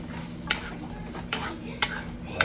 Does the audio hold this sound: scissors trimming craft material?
no